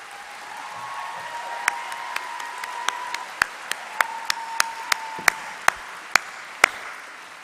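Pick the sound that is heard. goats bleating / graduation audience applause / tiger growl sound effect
graduation audience applause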